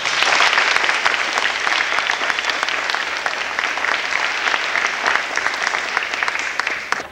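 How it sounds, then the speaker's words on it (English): Loud, continuous applause for six students, many hands clapping in a dense, even patter that holds for several seconds before trailing off at the end, with no talk over it. "Let's give these six students a big round of applause."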